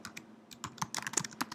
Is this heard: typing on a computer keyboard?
yes